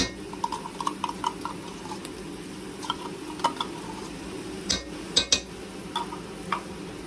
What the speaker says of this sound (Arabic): هلا بقلي معهم صوص البندوره، معجون البندوره.